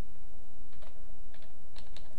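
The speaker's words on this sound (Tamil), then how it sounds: "ஃபுல் நேம் டைப் பண்ணிக்கலாம்." Typing on a computer keyboard while entering a full name into a business card layout in Photoshop: a quick run of soft, clicky keystrokes over a steady low room hum, close and fairly quiet, with no voices.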